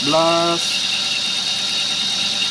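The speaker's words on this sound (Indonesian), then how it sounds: "sekarang mesin sedang running" A 2012 Toyota Avanza engine idles with a steady, loud mechanical hum that holds even throughout, after a brief tonal voice-like sound at the very start.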